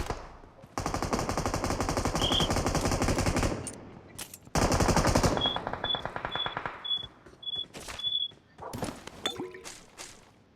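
Video game machine-gun fire rattles in long, dense automatic bursts, loud and close, broken by short pauses, followed by a string of small metallic dings and scattered clicks.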